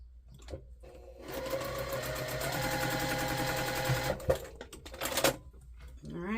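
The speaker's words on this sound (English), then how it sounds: "So I'm going to sew this side first." A sewing machine stitches quilt block pieces in one continuous whirring run of rapid needle clatter lasting several seconds, close and clear, with short clicks and handling noises before and after.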